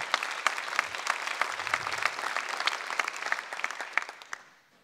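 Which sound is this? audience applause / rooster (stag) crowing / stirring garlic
audience applause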